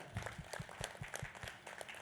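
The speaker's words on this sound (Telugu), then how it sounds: "గట్టిగా ఒకసారి ప్రతిసారి క్లాప్ చేసుకుందాం" Faint, distant audience applause at a meditation gathering in Rangareddy, with soft rapid claps running steadily throughout and no one speaking over them.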